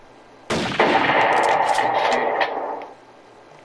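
A rifle shot at a target in Elk Simulator, a single sharp crack about half a second in followed by a ringing metallic clang that sustains for about two seconds before dying away.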